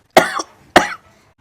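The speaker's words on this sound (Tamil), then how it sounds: "இருமுறாப்பா" Two sharp, close coughs about half a second apart, each with a brief rasping tail, loud against a silent background.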